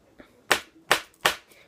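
A pen is struck straight down onto a surface in the pen-tapping clap technique, producing three sharp, loud, close cracks at an even rhythm with quick decays, preceded by a faint tap.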